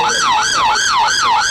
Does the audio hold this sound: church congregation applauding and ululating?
no